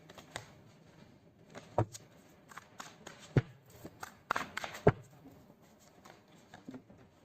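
Tarot cards being shuffled by hand, a series of soft riffling flutters and sharp slaps of the deck, close and fairly quiet, irregular in rhythm, with no speech.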